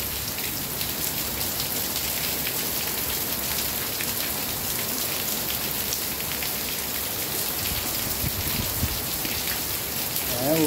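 Heavy, steady rain pours hard onto asphalt, with water running like a river, a dense continuous hiss that never lets up for the whole stretch.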